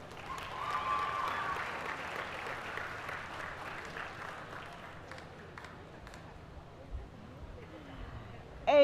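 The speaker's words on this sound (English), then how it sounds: "A round of applause for our Northwood High School scholars" Audience applause greets Northwood High School dual enrollment scholars at a ceremony. It sounds faint and distant, swelling early and then gradually thinning out.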